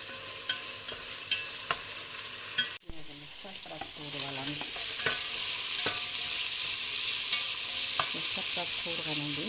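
Meat frying and being stirred in a pan, with steady sizzling and repeated utensil scrapes and clicks, loud and close throughout, no talking.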